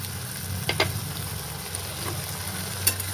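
Dal with spices, turmeric, sugar and garam masala frying in a pan over gas, a steady soft sizzle with a few brief clinks of stirring.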